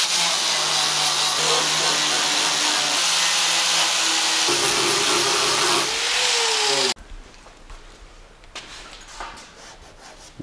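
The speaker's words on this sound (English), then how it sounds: "use an angle grinder with a flap disc to grind everything off" An angle grinder fitted with a flap disc grinding excess adhesive off a car body panel, making a loud, steady abrasive whine with pitch shifts as pressure changes, then cutting off abruptly and leaving quieter scraping and shop noise.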